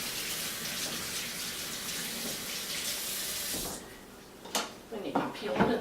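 Horseradish root rinsed under a running kitchen tap, a steady close stream of water that stops partway, followed by a few clunks and splashes in the sink.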